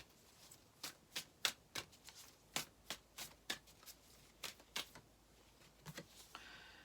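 Tarot cards shuffled by hand before a card is pulled, giving a quick, uneven run of sharp, crisp snaps and riffles, close and fairly quiet, with no talking.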